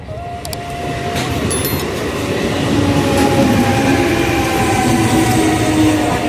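Train rolling steadily at Nabagram railway station, a continuous broad rumble of wheels and carriages with faint rail clatter, holding close and loud throughout with no voices.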